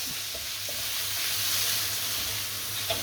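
Cuttlefish sizzling in a paella pan for seafood paella, a steady close crackling hiss with a few soft taps and no voices.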